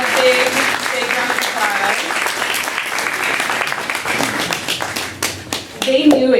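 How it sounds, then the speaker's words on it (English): A crowd applauds the organizers of a Friendsgiving-themed event, loud close clapping with individual hand claps audible, continuing for several seconds and thinning near the end as voices break through. "the organizers of this event, who definitely deserve a round of applause"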